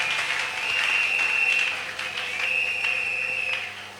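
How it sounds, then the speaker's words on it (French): A church congregation responds with acclamations and applause, steady clapping mixed with sustained high cheering and ululation-like cries that swell and ease in two waves. "S'ils sont là, qu'ils le manifestent par des acclamations."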